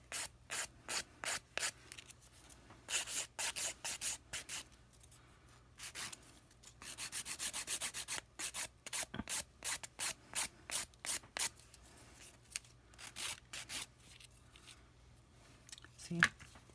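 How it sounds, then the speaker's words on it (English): A nail file rasps against acrylic nail extensions in quick, regular strokes, close and crisp, with short pauses between bursts and a voice talking over the filing. "And I'm going down the sides right here like this. And I'm just filing it."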